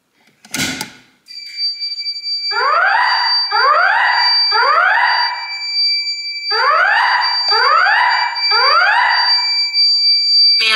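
A Notifier voice-evacuation fire alarm sounds in a parking garage: after a brief thump, loud repeating sweeping whoop tones come in grouped bursts over a steady high electronic tone.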